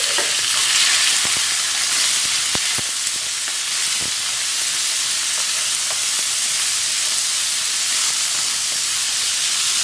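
Salted prawns dropped into two tablespoons of hot oil in a pan over medium gas, giving a loud, steady sizzle and hiss throughout with a few sharp pops and crackles.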